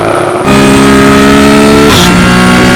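A Porsche Cup race car engine revs loud and close, holding strong harmonic tones as it pulls hard in third gear, with a brief gear-change dip near the end before the engine climbs again.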